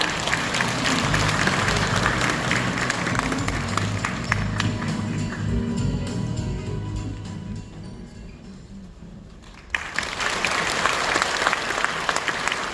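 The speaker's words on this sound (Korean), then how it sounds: "큰 박수로 환영해 주시기 바랍니다." Large audience applause welcoming the university president at the Dongguk University choir's founding concert, a broad sustained clapping that thins and fades toward the end before a fresh loud burst of clapping resumes.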